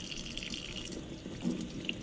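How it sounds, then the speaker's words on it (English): Cold water runs steadily from a tap into a sink, making a continuous soft hiss and splash at moderate volume with no voices. "So let's just go over here and just run a little cold water"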